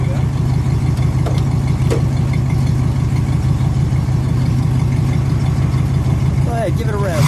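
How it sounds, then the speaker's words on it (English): A 1969 Pontiac Grand Prix Model J idles with a steady, loud, low rumble close by, unbroken for the whole stretch, with a faint voice briefly near the end. "Let me listen to that rumble for just a second, and then we'll give it a little acceleration."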